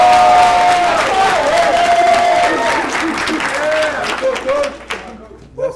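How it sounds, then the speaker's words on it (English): A crowd applauds and cheers for a head track and cross-country coach, dense loud clapping that starts at full strength and gradually thins out, with a few voices and whistles rising over it. "let's give a big round of applause to head track and cross-country coach"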